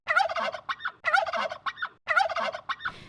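A turkey gobbles three times in a row, each a loud, rapid warbling burst separated by short pauses, close by with no talking.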